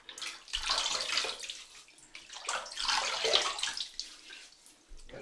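Cold water from a full sink is splashed onto a face before a shave, two bursts of close, soft sloshing separated by a brief pause.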